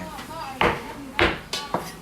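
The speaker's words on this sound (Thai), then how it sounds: "อันนี้ก็หั่นไม่หยุดนะครับ หั่นตั้งแต่ ตีห้า ตอนนี้ประมาณจะบ่ายสามแล้ว ก็ยังหั่นอยู่" A knife chops ingredients for chicken noodle soup at a busy noodle shop, with four sharp, uneven strikes on a board heard up close over a low background murmur.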